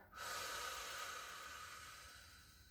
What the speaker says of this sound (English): So a long, slow, but forceful breath.